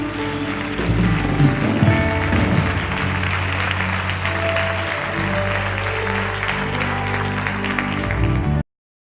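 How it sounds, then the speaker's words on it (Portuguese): Church congregation applauding, a loud sustained wave of clapping from a large crowd with music and voices underneath, cutting off abruptly at the end. "levanta suas mãos e aplauda o Deus que é digno de todo aplauso"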